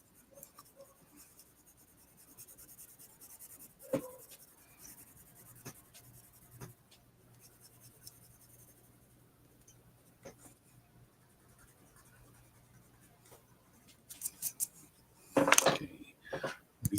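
Colored pencil strokes scratch and rub across toned paper, faint and intermittent close up, with a few louder scrapes and taps near the end.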